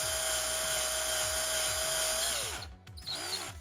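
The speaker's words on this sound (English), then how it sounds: "Putting pressure on the drill and letting it do its thing." A steady, high-pitched electric drill whines continuously while boring into metal on a 1999 Subaru 2.5 DOHC engine, then winds down and briefly spins up again near the end.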